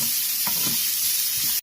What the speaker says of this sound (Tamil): இப்போ வெங்காயம் ஃப்ரை ஆனதுக்கப்புறம் நம்ம நறுக்கி வச்சிருக்க 1/2 கொடமிளகாய் போட்டுடலாம்